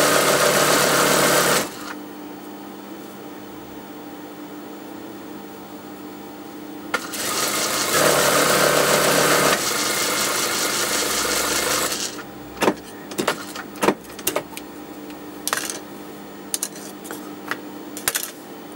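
A sewing machine stitches down the hemline of a maxi dress with a steady whirring hum in two stretches, followed by scattered light clicks and metallic taps.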